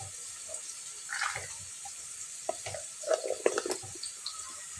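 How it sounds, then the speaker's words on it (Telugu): Onions with ginger garlic paste fry faintly in a pan with a soft, low sizzle, broken by scattered light stirring clinks and scrapes. "చూడండి మనకు ఆనియన్ ముక్కలు ఇలా మంచిగా ఫ్రై అయినాయి"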